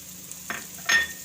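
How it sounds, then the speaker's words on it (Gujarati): Chillies drop into a hot pan while soup pasta is being made, setting off two quick bursts of close sizzling over a low frying hiss. "હવે આપણે આ મરચાં નાખી દઈએ"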